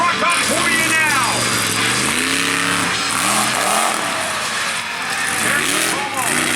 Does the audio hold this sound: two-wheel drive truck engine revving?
yes